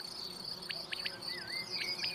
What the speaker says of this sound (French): Les champs des grillons, ça prenait tout l'espace.